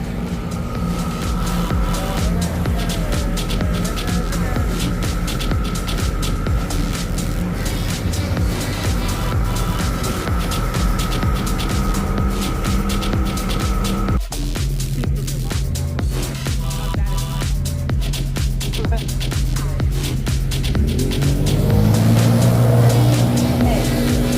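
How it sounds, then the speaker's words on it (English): Boat motor running on a lake on the Fourth of July, a loud, steady droning engine with a constant hum that shifts pitch midway and rises again toward the end, with no talking over it. "So as you can tell, the tower of power, engine, motor, whatever you call it"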